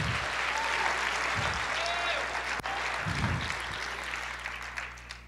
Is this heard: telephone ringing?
no